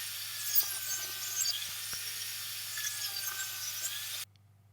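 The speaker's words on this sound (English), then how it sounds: "we'll rip that 16-inch board into 4 1 1/4 inch strips" A table saw rips a 16-inch wooden board into 1 1/4 inch strips, giving a steady high whining cut that runs for about four seconds and then stops abruptly, with no talking.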